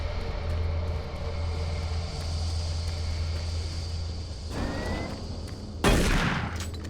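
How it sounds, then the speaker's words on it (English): A single gunshot fired in DOOM 3 BFG Edition bursts out sharp and loud near the end, over a steady low engine-like rumble and ambient game hum. "Did not mean to shoot that."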